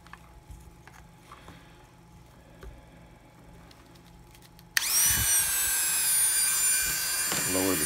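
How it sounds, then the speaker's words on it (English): Partway through, a rotary cutoff wheel on a power tool whines loudly and steadily as it grinds through the plastic casing of an old Microsoft Surface RT, following a stretch of quiet background. "I'm gonna switch to a cutoff wheel."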